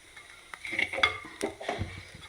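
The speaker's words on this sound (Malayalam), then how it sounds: "ഇനി നല്ലോണം ഇതിൻ്റെ പച്ചമണം മാറുന്നത് വരെ ഇളക്കി കൊടുക്കാം." Chili, coriander and turmeric powders stirred in a pan for chicken roast, soft scraping and clinks of a spoon against metal over a faint sizzle, brief and quiet.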